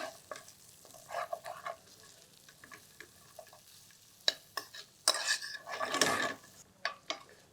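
Cashew nuts fry on a lowered flame in a pan, with quiet intermittent scraping and clattering stirs over a faint sizzle, near and fairly soft.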